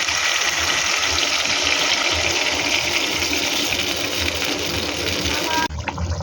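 Water is poured into a pan of rohu fish curry with potatoes, a steady loud gushing splash that runs continuously for several seconds before stopping abruptly.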